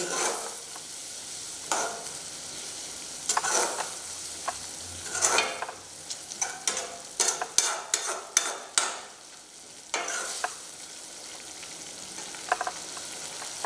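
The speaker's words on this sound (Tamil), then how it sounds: "தேங்காய் பால் கொதிக்க ஆரம்பிச்சிச்சு" Coconut milk simmers and sizzles in a pan for a veg masala idiyappam, with a spoon scraping and stirring in repeated bursts, loudest in a cluster of quick strokes midway; no talking.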